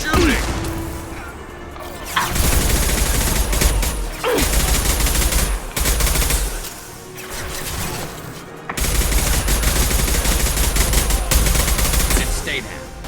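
Sustained automatic gunfire in the video game Mass Effect Legendary Edition, loud bursts of shooting with crashing impacts, broken by brief lulls before resuming, with voices calling out between volleys.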